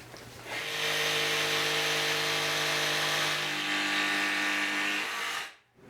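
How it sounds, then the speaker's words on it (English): A jigsaw cutting a marked radius in a board for a Christmas village display stand: a loud, steady close buzzing saw whine that starts after a brief pause, holds for several seconds, then stops abruptly. "Now I'm going to use my jigsaw to cut out the radius that I just marked."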